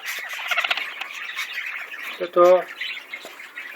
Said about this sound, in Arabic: طائر هولندي من نوع البادجي حب